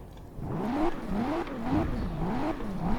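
A sports car engine in the video game Forza Horizon 4 revs up and down in a repeating wavering pattern, a moderately loud, continuous motor tone rising and falling several times.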